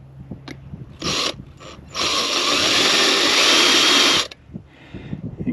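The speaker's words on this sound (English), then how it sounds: "Line that up with my marks and drill the opposite corner." A power drill bores bracket holes through the transom of an inflatable boat, giving two short whirring bursts followed by a longer, steady, close-up drilling run of about two seconds, with no talking.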